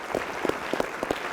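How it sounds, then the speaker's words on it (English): A short burst of light, scattered clapping from a small group at a county commissioner debate, individual claps audible rather than a dense roar, fairly steady across the moment. "Let's clap for them."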